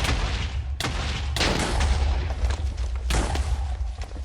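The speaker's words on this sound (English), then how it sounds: "you just do a regular explosion" Explosions from an explosive superpower in Minecraft, several sharp booming blasts in quick succession with rumbling noise between them.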